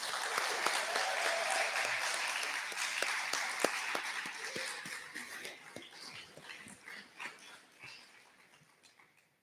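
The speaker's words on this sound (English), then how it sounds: "can we give the seniors a round of applause?" A school audience applauding the seniors at a senior thesis event, a full round of clapping that starts strong and thins out to scattered claps as it fades, with a few voices and cheers mixed in.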